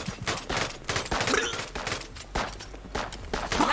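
Rapid bursts of gunfire crackle in repeated volleys in Tiny Troopers: Global Ops, moderately loud with brief gaps between strings of shots.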